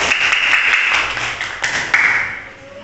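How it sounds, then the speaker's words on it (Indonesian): A classroom group applauds a presenting group, giving brief, close clapping that fades out within a few seconds. "Kalau tidak ada, kita kasih aplaus untuk kelompok"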